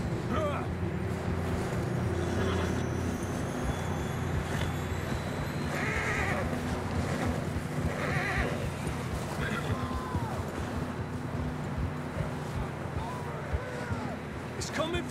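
Horse neighs and whinnies ring out in the video game Red Dead Redemption, over a steady low rumble and ambient game noise, with people talking throughout.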